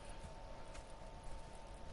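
Horses in the Red Dead Redemption 2 video game clip-clop steadily, a continuous close patter of hooves over a dense ambient background with no talking.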